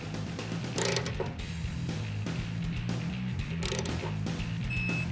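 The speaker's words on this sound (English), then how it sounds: "Hold that axle and I'll torque that." Wrench ratcheting as an axle nut is torqued on a performance car's front end, a series of close mechanical clicks and clatters over a low workshop hum, with no talk.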